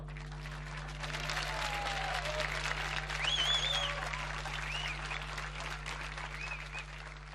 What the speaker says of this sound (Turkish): alkışlarınızla karşınızda Barış Manço